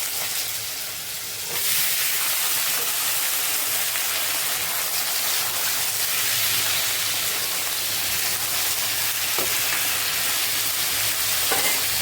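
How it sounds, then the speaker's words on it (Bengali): Potatoes dropped into hot oil tempered with cumin and a bay leaf, setting off a loud, steady sizzle that swells after a moment and continues evenly. "আলুগুলো একটু ভাজা ভাজা হয়ে যায়"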